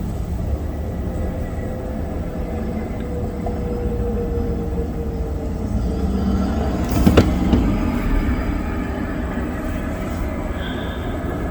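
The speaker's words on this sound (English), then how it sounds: "it's sort of rush hour here, so there's a lot of cars on this corner" Rush-hour car traffic passes a street corner in New Jersey, a continuous mid-distance rumble of engines and tires that swells briefly with a louder passing vehicle midway.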